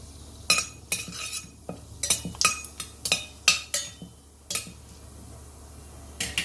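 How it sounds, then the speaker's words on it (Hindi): Whole cardamom and cumin seeds roasting in oil that is not yet fully hot, a spoon stirring them and scraping and clinking against the pan in repeated sharp strokes, close and fairly loud, with only a faint sizzle beneath. "इसमें डालेंगे एक बड़ी इलायची और आधी छोटी चम्मच के करीब जीरा। इनको थोड़ा सा भूनेंगे।"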